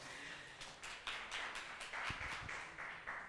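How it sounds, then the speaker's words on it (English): Sparse clapping from a small audience at a school competition grand finale, a few distinct claps rising into a light patter before a student's presentation, faint and somewhat distant. "Round of applause for Nigel."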